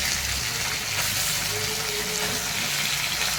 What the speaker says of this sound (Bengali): এগুলো হালকা ভাজতে নিতে আসছি।